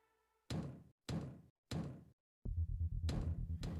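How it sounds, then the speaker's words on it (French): Knocking on a door at the close of a K-pop music video: three distinct, loud knock bursts spaced evenly, then a denser run of heavier thuds near the end, with no talk. "on entend à la fin du Titi des toquements à la porte"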